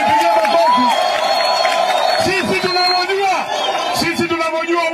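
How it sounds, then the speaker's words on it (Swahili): A large outdoor political rally crowd in Kondele, Kisumu claps and cheers in a loud, sustained roar of applause and shouting, with an amplified voice speaking over the top of it. "Mujipigie makofi."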